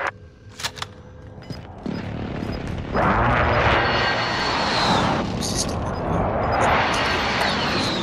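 Airstrike aircraft roars in during an online military shooter video game, a loud sustained engine rush that swells twice, with scattered gunfire and brief voices early on.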